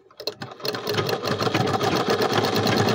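Sewing machine stitching fabric, starting with a few quick clicks and then running up to a steady, close, busy whir that continues to the end.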